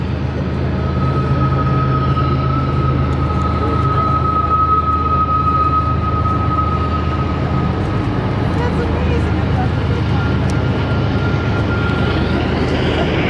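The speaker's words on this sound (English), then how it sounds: "Still going, that's a long train." A long train rumbles past steadily near the Spiral Tunnels in Yoho National Park, a continuous low roar with a faint high whine, loud and close for the whole stretch.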